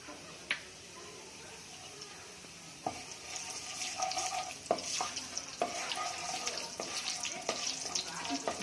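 Cinnamon, cloves, cardamom and a little cumin frying in hot oil for a gongura chicken curry, a steady sizzle with scattered sharp pops and stirring clicks, close and alone.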